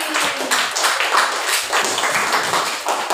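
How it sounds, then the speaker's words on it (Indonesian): Hand clapping from a group, likely in a classroom setting, forms a dense, continuous patter of overlapping claps heard at moderate volume. "Oke, tepuk tangan dulu"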